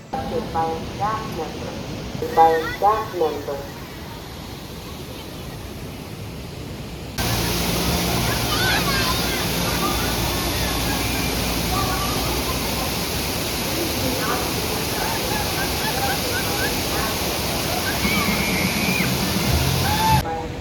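Rushing, splashing water from a rapids ride at Hirakata Park in Japan keeps up as a loud, steady wash. A person talks briefly before it begins.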